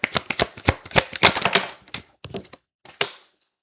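A deck of cards is shuffled by hand in a quiet room, giving a quick run of crisp riffling snaps and soft taps that thin out into a few scattered flicks near the end.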